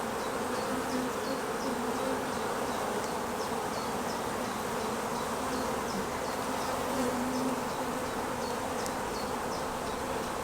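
Honeybees buzzing steadily throughout an open hive during a queen-mating check in a Miller and Alley queen-rearing setup, a dense, even hum close by with no talking.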